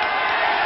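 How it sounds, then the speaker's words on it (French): Applause and crowd noise for a Belgian wrestler at a wrestling match, a steady dense wash of clapping heard at a distance and sustained evenly throughout. "Il y a beaucoup d'applaudissements pour le Belge quand même."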